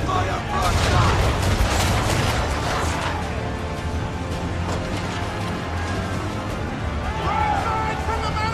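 Cannon broadside from sailing warships in Assassin's Creed 3, a rolling barrage of heavy booms layered over battle din and shouted voices, loud and dense for several seconds.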